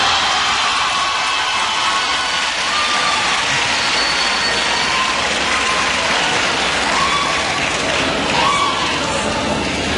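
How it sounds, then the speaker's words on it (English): Audience applause after a speaker's introduction at a university talk, a dense, steady wash of clapping sustained for the whole stretch without pause. "Can everybody please give Aubrey a big round of applause for the great introduction?"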